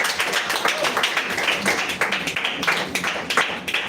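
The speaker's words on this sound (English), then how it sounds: "A round of applause." A seminar audience gives a round of applause after a talk on dedication: close, loud, uneven hand claps from a modest group, the individual slaps distinct and irregular, going on without a break.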